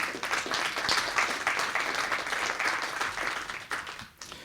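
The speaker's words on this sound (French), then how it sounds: "Je pense que ça mérite une bonne main d'applaudissements." Applause from an audience at a French-language research presentation, a steady dense wash of clapping with no speech, fairly soft and evenly sustained before tapering at the end.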